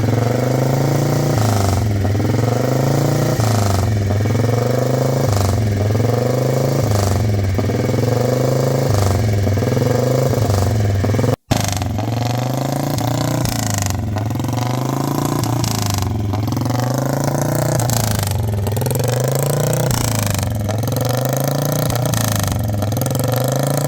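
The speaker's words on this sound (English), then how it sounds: "This guy is revving his bike." A motorcycle revved by its rider at an outdoor classic car show, a loud close engine pulsing in a steady repeated rev cycle, with one brief dropout partway through.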